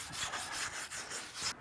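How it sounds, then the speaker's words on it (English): A handheld wire brush scrubs lichen off concrete during a porch renovation, a close, rhythmic rasping with quick back-and-forth strokes, heard alone. "I'm going to use this wire brush"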